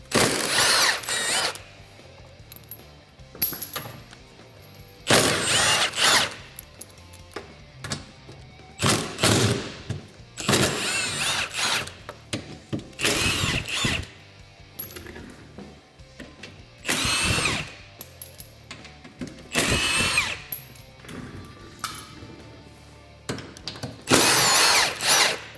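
Power tool, likely an impact driver or drill, removing factory skid plate bolts on a Honda Talon 1000 side-by-side, running in repeated short loud bursts with brief pauses between them and no talking.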